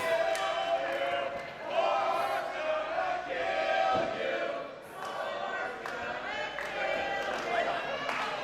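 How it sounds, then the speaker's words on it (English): Wrestling crowd at a Relentless Wrestling hardcore match chanting for Warhorse, a dense, steady roar of many voices filling an indoor venue with rhythmic swells throughout. "Now the crowd is chanting for murder."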